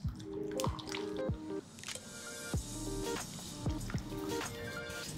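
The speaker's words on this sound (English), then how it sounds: "So into some boiling water, and now just quick little bath and then we're out." Glass noodles, also called cellophane noodles, get a quick dunk in a pot of boiling water for a Thai noodle salad, with close, wet drips and squishy splashes repeating in bursts, no talking.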